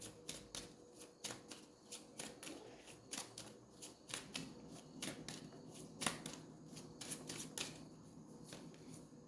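Tarot cards being handled and shuffled up close, a quick series of crisp riffling snaps and flicks in irregular bursts over a quiet background, with no talking.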